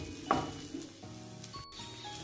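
Okra sizzles and fries in a pan over a medium flame, a soft steady crackle with a louder burst near the start, alongside faint tonal background sounds.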